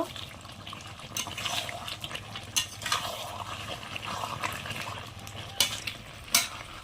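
Chicken and fried potatoes stirred and sautéed in a pan, with scattered scraping and clinking of a utensil against metal over a low, steady sizzle, plus a few sharper knocks near the end.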